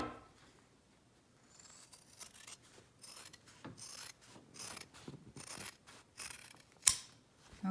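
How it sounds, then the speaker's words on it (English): Scissors trim excess fabric off a homemade face mask, giving faint, close snips and rubbing sounds that come in irregular clusters and grow busier toward the end. One sharper snip stands out near the close. "So I'm just going to simply come up here and trim this off, and I'm going to do the other side as well."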